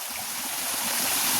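Water pours steadily from a lake or dam, a continuous close rushing hiss with no pauses, loud and unbroken throughout.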